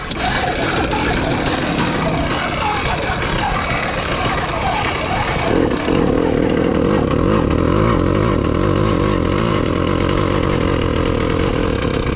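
A motorized bicycle engine runs loud and steady throughout, its tone shifting to a higher, more even drone about halfway through as the throttle is held open.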